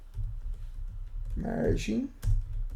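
Keys tapped on a computer keyboard while a search is typed, soft clicks running steadily beneath a brief voice speaking partway through.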